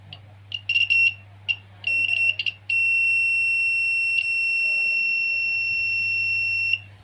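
A homemade AC current detector built with a copper wire coil sensor gives off a shrill electronic buzzer, first in short stuttering bursts and then as one steady continuous tone, close and loud.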